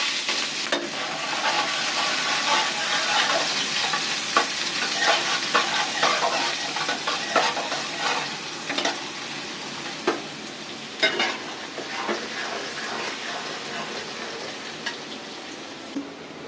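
Onions sizzling as they fry in a pan, a steady broadband crackle with scattered sharper pops and stirring clicks, close and continuous with no voices.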